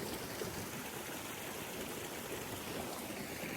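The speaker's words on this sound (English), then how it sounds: "There's a stream here." A mountain stream in the Colorado backcountry rushes with a steady, dense hiss, close and unbroken, with no voices over it.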